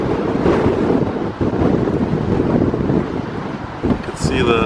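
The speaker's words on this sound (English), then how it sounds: "It's getting a little breezy here today." Gusty breeze outdoors near palm trees blows steadily across the microphone, a loud continuous roaring rush with brief dips and surges.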